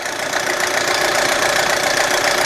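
A cold 2007 Audi A4 with low oil pressure idles close up, its engine giving a steady, noisy hum with a faint ticking texture and no pauses.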